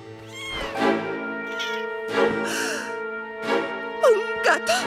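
A cat meows repeatedly in a busy indoor scene, several drawn-out cries rising and falling over a steady tonal background, with voices and commotion around it.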